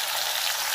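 Potatoes fry in a pan, making a brief, steady, even sizzle with no speech.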